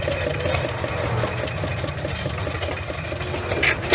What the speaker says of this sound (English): these things are called hit and miss motors because of the way that they only fire occasionally